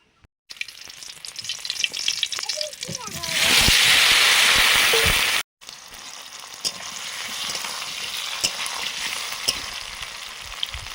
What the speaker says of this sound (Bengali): সর্ষের তেল দিলাম আলুগুলো একটু ভেজে নেব